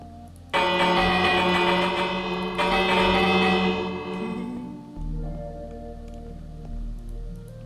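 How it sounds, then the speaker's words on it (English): A bell rung in the Minecraft video game at a watchtower: a loud metallic strike with a bright, ringing decay, struck again a few seconds later, then fading under a low in-game hum. "As well as ring the bell."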